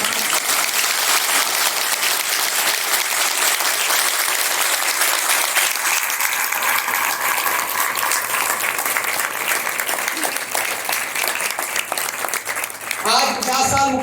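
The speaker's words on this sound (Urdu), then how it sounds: "اس کے لیے بھرپور تالیاں" An audience at an annual Urs religious gathering breaks into loud, sustained applause that fills the whole stretch, dense clapping holding steady before thinning slightly near the end.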